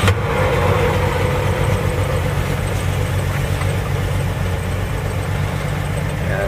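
A 1959 Chevrolet Apache pickup's straight-six engine idles steadily and a little roughly, a low continuous rumble with an uneven throb and no voices.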